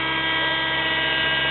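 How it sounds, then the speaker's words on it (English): Raptor 30 RC model helicopter hovering, its small engine and rotor giving a steady, loud, continuous drone with a buzzing whine and no pauses. "The helicopter's flying right, up, down, still going right."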